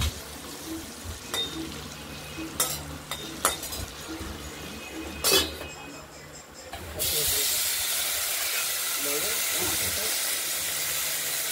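Potatoes frying in a pan with turmeric and salt: a few scattered clinks and rustles, then a steady, broad sizzling hiss that holds evenly to the end.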